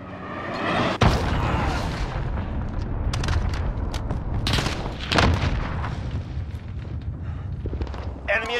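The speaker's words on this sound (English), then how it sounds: "Allied cruise missile launched." Cruise missile explosions from an online multiplayer shooter game, heavy booming blasts and rumbling impacts, one sharp hit near the start and another midway, under continuous battlefield din.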